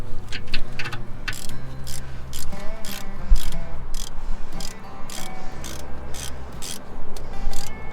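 A ratchet wrench clicks in quick repeated bursts while loosening 13mm brake caliper bolts on a Ford. Close metallic ratcheting comes in short runs, with a low hum underneath.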